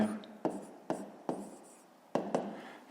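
A pen writing out a math solution for a fifth-grade exercise, giving soft scratchy strokes with a few sharper taps, close but quiet, with no talk over it.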